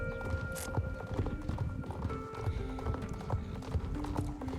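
Hooves of a ridden horse clip-clop steadily in a video game, a quick, even rhythm of soft thuds running the whole time with one brief whinny near the start, moderately quiet under a faint hum.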